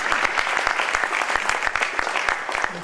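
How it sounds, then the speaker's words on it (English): An audience at an evening tech talk gives sustained applause, a dense steady patter of many hands clapping close and loud with no voices over it. "let's give John another round of applause"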